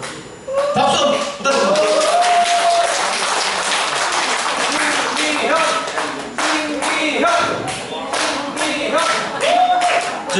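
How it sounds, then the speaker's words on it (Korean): Loud, sustained clapping and applause from a gathering at a club members' meet-up and singing contest, dense and continuous with voices calling out over it. "박수"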